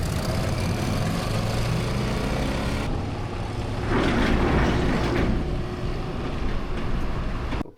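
Big passenger ferry ship underway, its engine a continuous low rumble with broadband wash and vibration, swelling a little louder midway before settling back, no voices.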